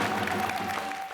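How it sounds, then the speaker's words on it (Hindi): A brief, dense wash of audience clapping at an honour ceremony in a Hindi sitcom, steady and fairly full for about a second, with a faint sustained tone underneath. "जोरदार ताली।"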